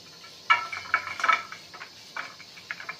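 A knife chops onion on a cutting board in a kitchen, a handful of light, irregular taps and crisp slices, fairly soft and close, with no talking.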